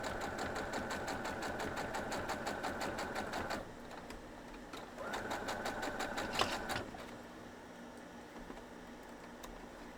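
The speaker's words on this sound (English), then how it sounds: "So now I'll just sew down that again." A sewing machine runs a straight stitch on a quilt block in two steady, rapid mechanical bursts, the second shorter, each followed by quieter pauses, close and alone without speech.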